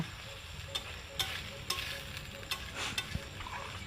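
Onion, ginger and tomato masala frying slowly on a low flame for a home-style rohu fish curry, a steady soft sizzle with occasional light crackles and stirring clicks, close by with no talk.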